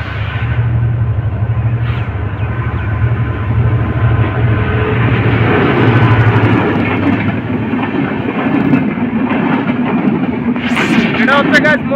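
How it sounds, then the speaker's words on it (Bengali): The Maitree Express passenger train passes by as a loud, continuous rumble with clattering wheels, and high screeching rises near the end. "যেটা গেল এটা হচ্ছে মৈত্রী এক্সপ্রেস, এটা সরাসরি ভারতে যাবে।"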